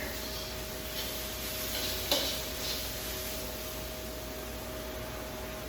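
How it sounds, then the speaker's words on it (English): Food stir fries in a pan with a steady, even sizzle and hiss throughout, a soft scrape or clink of the pan in the middle, and no talking. "We got that good stir fry action, right? Moving around."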